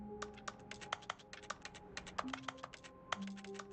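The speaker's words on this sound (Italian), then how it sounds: "Ah, digita sulla tastiera." Rapid clicky keystrokes from a computer keyboard in a video game, an irregular run of crisp taps, some doubled, heard fairly close and alone in a quiet background.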